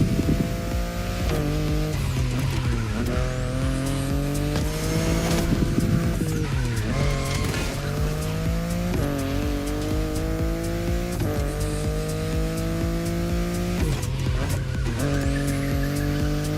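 A BMW i8 hybrid sports car in The Crew Motorfest racing game revs loudly through repeated gear shifts, rising and dropping engine tones close up, with tire squeal and skidding throughout.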